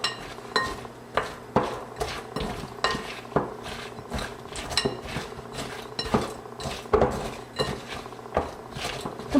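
Hazelnuts being stirred into melted chocolate for dragees, a utensil knocking and scraping against the bowl in a steady rhythm of about one clink per second, close and alone.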